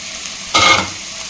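Small onions and capsicum hit a pan and give one short, loud burst of sizzling and stirring that fades within a fraction of a second into quiet background.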